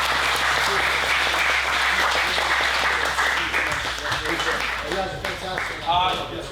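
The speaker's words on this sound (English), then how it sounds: "Can I get a huge round of applause for Sensei Ross one more time?" A karate masterclass audience gives a big round of applause for their instructor, dense steady clapping throughout that thins slightly near the end as voices begin to rise over it.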